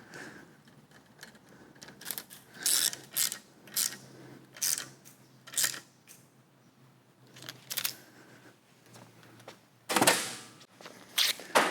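A ratchet bolts the oil pickup tube to the oil pump of a 6.0 LS3 stroker engine, making close, sharp bursts of mechanical clicking separated by pauses. A loud final flurry comes near the end.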